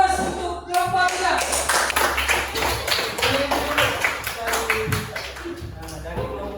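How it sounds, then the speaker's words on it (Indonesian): A classroom group receives applause, a burst of many hands clapping in a quick, uneven patter that fills the room, with voices talking over it. "boleh aplaus untuk kelompok kita"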